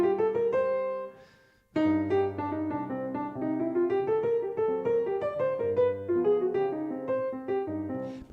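A keyboard runs a bebop scale in a Latin jazz setting. Steady piano notes climb and descend over low held chord tones for several seconds, close and moderately loud, with one brief pause early on.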